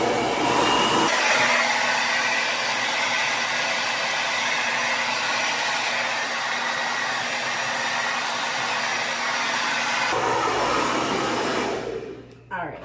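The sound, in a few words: Babyliss Aquage edition blow dryer rough drying hair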